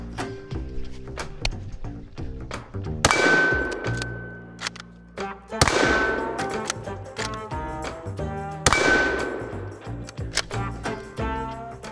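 .308 rifle bullets striking a 3/8 inch AR550 steel target, three sharp loud impacts spaced a few seconds apart, each followed by a long ringing metallic tone that slowly decays amid background clatter.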